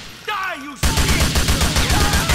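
Rapid gunfire bursts in the GTA 4 video game, loud and continuous after a short stretch of shouted speech, with dense crackling shots running to the end.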